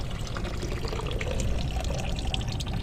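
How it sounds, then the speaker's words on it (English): Water flows from an RV drain line into a septic hole with a continuous close splashing, trickling pour that stays fairly steady for a few seconds. "We're going out to see if this water's coming out into the septic."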